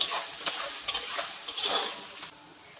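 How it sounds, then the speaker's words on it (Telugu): An oil tempering (popu) for pulihora sizzles softly in a pan while a spoon stirs with a few scraping strokes, close and fairly quiet, before the sound drops away near the end. "పోపు అయితే వేగిపోయింది."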